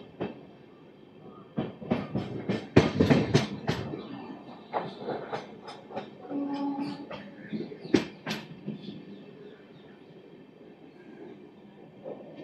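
The Udhna Amrit Bharat Express on its inaugural run skips Ichchhapuram railway station, giving rhythmic clickety-clack wheel beats over the rails with metallic squeals and rattling carriages, moderately loud and fading toward the end.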